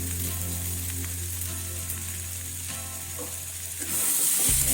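Boiled chickpeas sizzle as they are sautéed with chana masala in a pan, a steady close frying hiss with faint stirring, rising slightly louder toward the end under a constant low background hum.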